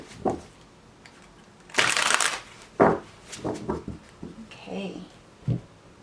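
Tarot cards riffle and shuffle in short, crisp bursts, one loud sweep in the middle and a few softer flutters, with a faint voice murmuring around them.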